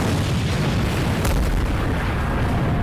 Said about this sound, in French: l'explosion j'avoue c'est un peu moins bien fait